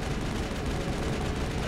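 Assault rifle fire in the video game Mass Effect, a dense continuous roar of rapid gunshots and explosions filling the moment, loud and close with no pauses.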